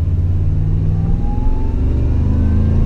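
A supercharged Toyota Tundra Platinum Pro pulls under acceleration, giving a steady, loud engine drone with rising tone, close and continuous throughout.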